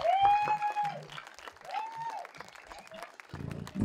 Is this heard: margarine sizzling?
no